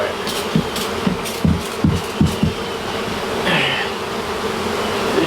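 Honeybees buzz steadily under a shed floor, close and loud, with a few soft knocks and thumps early on and a brief higher whine partway through.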